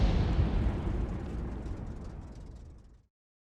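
In World of Tanks, a shot hits an enemy tank and sets it on fire, producing a loud, deep booming burst that rumbles and fades over about three seconds, then cuts to silence.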